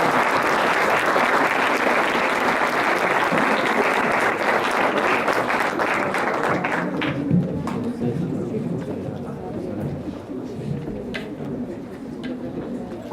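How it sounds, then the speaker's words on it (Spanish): Dense, loud applause from an audience closing a Spanish-language lecture on using cost information in decision-making, sustained for about seven seconds before thinning into scattered claps and crowd murmur. "Bueno, pues un aplauso para nosotros"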